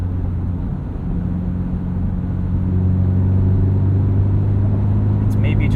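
A 2022 Subaru BRZ fitted with an MRT street/race axle-back exhaust cruises at 2,700 RPM around 65 mph, giving a steady, low, loud engine and road drone from inside the cabin that swells slightly partway through.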